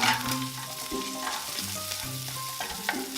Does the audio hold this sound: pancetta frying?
yes